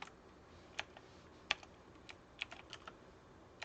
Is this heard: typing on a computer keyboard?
yes